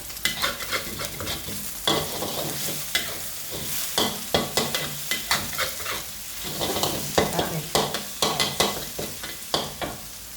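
Boiled bamboo shoots stir-fried in a pan, with a steady sizzle under repeated scraping and clacking strokes of a utensil against the pan in an uneven rhythm, heard close with no talking.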